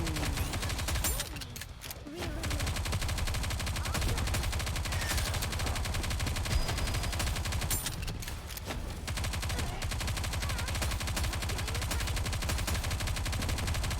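Sustained rapid-fire gunfire from a Nikke: Goddess of Victory battle, dense and continuous across the whole stretch, with brief dips where shooting pauses, then resumes.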